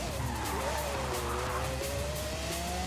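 A car drifts in the racing game Forza Horizon 5, tires squealing in a continuous, wavering screech over a steady engine drone, close and sustained without talk.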